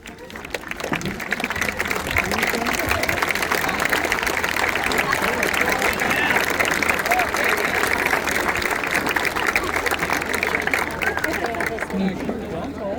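Loud, sustained applause from a large crowd at a high school graduation ceremony, dense clapping that swells quickly and holds steady for several seconds before easing slightly at the end.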